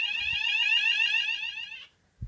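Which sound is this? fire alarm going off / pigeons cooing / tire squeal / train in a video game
fire alarm going off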